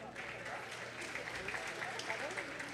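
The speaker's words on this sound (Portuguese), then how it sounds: "aplauda o Senhor pela Aline." Steady applause from a church congregation, clapping continuously without pause, with voices faintly mixed in.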